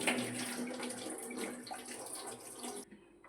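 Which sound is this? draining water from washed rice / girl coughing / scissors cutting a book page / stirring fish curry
draining water from washed rice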